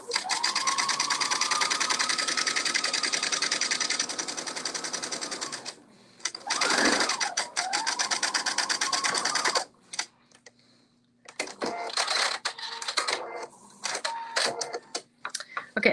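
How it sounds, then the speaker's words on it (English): Sewing machine stitching kimono fabric in loud, steady whirring runs, stopping around the middle for a pivot at the corner, then resuming in shorter bursts with gaps, and no talking over it. "I'm going to put my needle down into the fabric, raise up my presser foot, and then turn the fabric and then put it back down."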